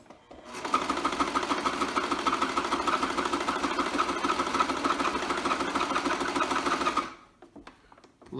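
A sewing machine stitches a fabric face mask in one continuous, rapid mechanical whir lasting about six seconds, close and loud, then stops abruptly.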